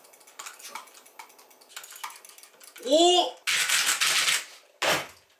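Rapid clicks from a computer keyboard, fairly close, followed by a child's loud exclamations and other voices.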